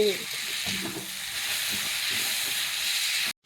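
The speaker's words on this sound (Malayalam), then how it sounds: "ഇനി ഇതിലേക്ക് നമുക്ക് തക്കാളി ഇടാം. തക്കാളി കുറച്ച് വേവിക്കാം." Tomatoes frying in a pan over cooked onions, a steady close sizzle and hiss with a faint voice at the start, cutting off abruptly at the end.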